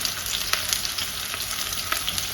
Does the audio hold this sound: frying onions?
yes